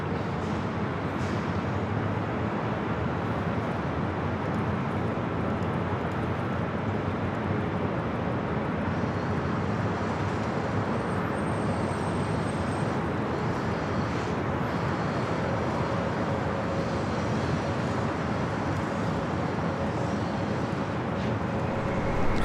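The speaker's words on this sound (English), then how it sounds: "Turkish Airlines, the A350-900, heading back to Istanbul. Flight 180 heading up here for a north side takeoff" A Turkish Airlines Airbus A350-900 taking off at Los Angeles airport gives a steady, loud, broad jet roar that stays constant throughout, with no voices.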